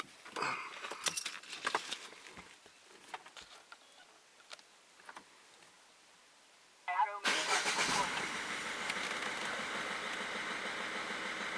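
Keys jingle and clatter, then a 1.6 HDi diesel car engine cranks and catches, settling into a loud, steady rattling idle that continues to the end.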